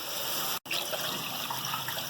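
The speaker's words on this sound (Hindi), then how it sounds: "अब ये हम पानी डालेंगे। 1 बाउल डालें" Water poured from a bowl into a cooking pot of browned nihari base, a steady close splashing pour with a brief break partway through.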